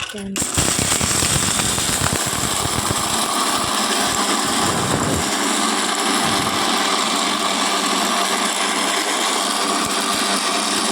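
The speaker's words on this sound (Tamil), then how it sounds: "நம்ம இங்கே பொடி அரைச்சிக்கிட்டு இருக்கோம்" A mixer grinder grinding lentil spice powder with dried chillies gives a loud, harsh whirring grind, continuous at high speed, steady and close, with a brief clatter at the start.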